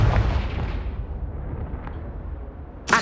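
Confringo fire spell from the Hogwarts Legacy video game: a heavy booming blast at the start that rumbles and fades over a few seconds, then a second sharp burst at the very end.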